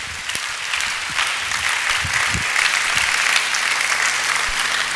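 A church congregation claps steadily throughout a Sunday worship service, with dense, sustained applause and faint crowd sounds and occasional low thumps underneath.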